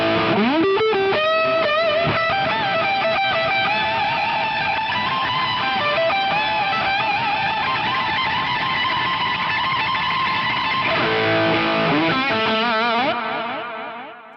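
An electric guitar through a heavily overdriven amp, its gain pushed by a Fractal VP4 pitch follower, plays a sustained distorted riff with shifting pitches and echoing effects, loud and continuous until it fades out at the end.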